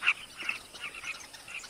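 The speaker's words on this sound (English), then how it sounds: "Carmine bee-eaters, named for their favorite prey, gather on nearby perches." Carmine bee-eaters calling from perches in the African bush, with several faint, high, scattered chirps over a quiet background.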